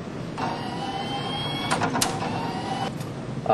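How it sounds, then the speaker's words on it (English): A stepper motor in the control box of a rat exercise machine turning to line up holes and drop a single food pellet, a steady whirring hum with a few short clicks and a rattle near the end. "the device will turn a certain number of degrees to allow different holes in the levels to line up and allow one food pellet to drop at a time"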